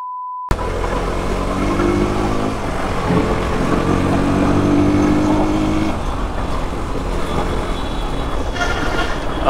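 Steady, loud road roar from riding a motorcycle along a highway in poor condition, with engine and wind noise continuous throughout and a brief faint tone at the very start.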